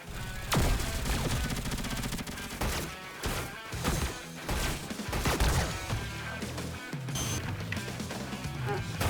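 Dense, continuous gunfire bursts and crashing impacts from a Roblox boss fight, loud and chaotic with rapid repeated shots throughout.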